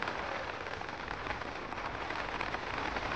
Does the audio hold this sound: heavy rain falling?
yes